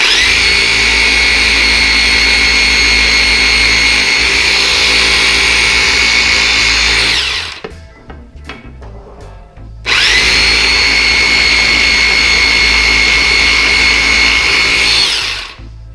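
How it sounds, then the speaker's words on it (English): Power sanding with 320-grit sandpaper smooths the rough cut edges of mirror frame trim: a loud, steady, close whir runs for about seven seconds, stops briefly with a few knocks, then resumes for another six seconds. "now it's just the time to sand a little bit of the roughness out of the edges"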